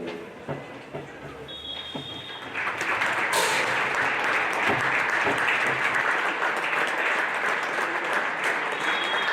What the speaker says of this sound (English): We ask that supporters of both clubs join us in a minute's applause as a sign of solidarity